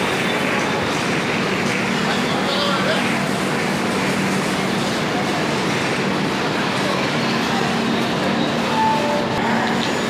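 Interior of a Sealdah to New Delhi train coach: a loud, steady rumble of running rail noise with faint clatter throughout, and voices murmur underneath.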